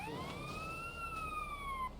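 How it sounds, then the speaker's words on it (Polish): A police car siren in GTA San Andreas, a single rising and falling wail heard faintly at a distance over low background rumble. "Policja, policja, uciekaj."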